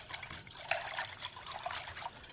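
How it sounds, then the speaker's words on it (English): Cornstarch mixture for lemon meringue pie filling is whisked in a bowl, making a soft, continuous wet swishing and sloshing sound close by. "I am going to go ahead and just whisk this good"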